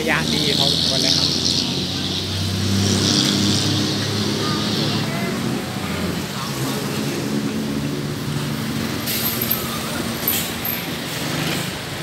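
City bus on route 12 in Bangkok: a steady engine drone with road rumble and a hiss of air, under continuous talk from the driver.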